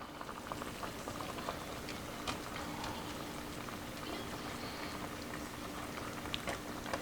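Turnip greens boiling in a covered pot on low heat, a faint steady bubbling and patter of liquid running throughout with no one talking.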